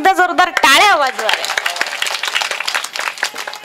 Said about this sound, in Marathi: मला वाटतं सिस्टीम साठी पण एकदा जोरदार टाळ्या वाजवा.